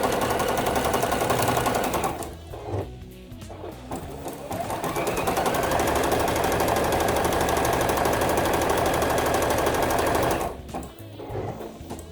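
A sewing machine zigzag-stitches appliqué tulips onto a quilt block, a loud rapid mechanical chatter that runs steadily, eases briefly around three seconds and near the end as the fabric is turned, then resumes.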